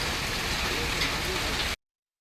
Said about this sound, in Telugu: రాత్రి హైదరాబాద్ను భారీ వర్షం అతలాకుతలం చేసింది